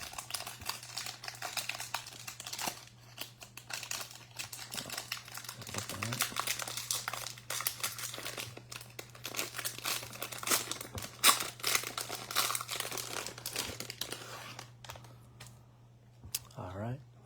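A Topps Heritage baseball card pack of 20 cards is torn open, its foil wrapper crinkling and rustling close up in a steady run of crackles, with a low steady hum underneath.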